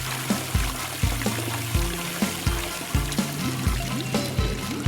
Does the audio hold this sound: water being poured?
yes